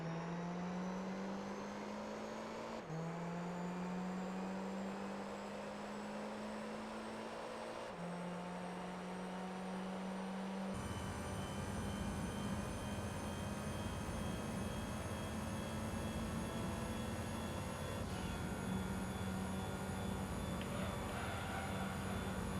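Tuned Lotus Esprit engine in the video game Gran Turismo 3 droning steadily, pitch climbing through several gear changes before holding a high, sustained whine at top speed; loud and continuous with no talking.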